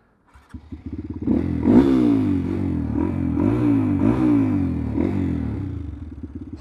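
A Honda Grom motorcycle with a swapped-in sport-bike engine revs loudly and close up, rising and falling in several sharp bursts over a steady rumbling idle, with some mechanical clatter.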